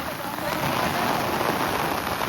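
Heavy monsoon rain pours in a dense, loud, unbroken hiss, close by, near a hillside village after a landslide.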